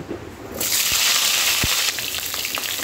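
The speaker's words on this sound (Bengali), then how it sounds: "পটলগুলো আমি এখন ভেজে নেব" Pointed gourds (potol), peeled in part and slit down the middle, frying in hot oil with a loud steady sizzle that rises sharply after a quiet start, with a few soft clinks of a utensil.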